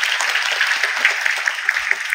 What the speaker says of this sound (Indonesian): tepuk tangannya sekali lagi dong